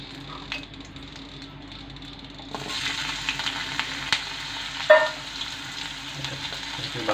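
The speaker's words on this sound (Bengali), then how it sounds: "আমরা এখন এক এক করে সব কিছু সরিষের তেল দিয়ে ভেজে নেব" Dried chilies and loitta fish fry in mustard oil, a soft steady sizzle that grows louder partway through, with occasional clinks and stirring taps, close by.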